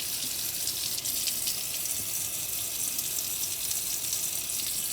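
Tap water runs steadily into a kitchen sink as coins are rinsed under it, a constant close hiss and splash with no pauses and no talking.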